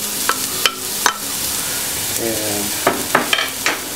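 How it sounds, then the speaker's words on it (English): Onions frying in a couple tablespoons of olive oil, a steady soft sizzle with several sharp utensil clinks and stirring scrapes, a brief spoken word near the start. "I'm gonna let these onions fry up just a little bit."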